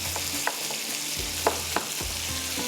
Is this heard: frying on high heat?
yes